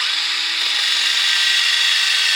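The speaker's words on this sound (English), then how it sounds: "You're going to let the drill do the work." A drill-driven pad wet-sands a yellowed Acura TSX headlight with 3000-grit sandpaper, giving a loud, steady high whirring and scrubbing sound that continues unbroken without speech.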